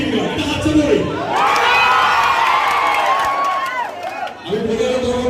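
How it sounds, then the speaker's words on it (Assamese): Crowd at a hotel opening attended by a singer erupts in loud cheering, whooping and children's shouts for several seconds. The noise fades back to a speaking voice, which is also heard at the start. "এটা হাত চাপৰি"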